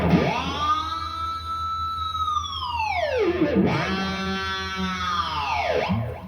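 A distorted electric guitar note sustains, then plunges steeply downward in pitch in a whammy-bar dive bomb, followed by a second note and another dive.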